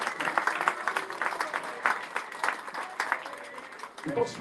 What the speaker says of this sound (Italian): Quindi un applauso a tutte le squadre di